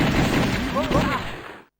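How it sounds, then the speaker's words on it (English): Rapid gunfire in the House of the Dead arcade game fills a dense, noisy stretch with overlapping shots and background music, ending abruptly in a brief silence; a voice is faintly present. "We can't really hear it because of all the gunshots"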